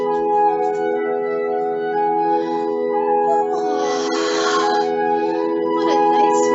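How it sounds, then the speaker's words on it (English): Edvard Grieg's Morning Mood plays from a recording through a speaker: sustained, gentle orchestral tones hold steady at moderate loudness, with a brighter swelling passage midway and no talking. "This song is called Morning Mood"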